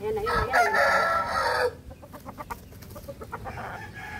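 Young stag rooster crowing once nearby, a loud strained call lasting over a second, followed by quieter clucks and rustling.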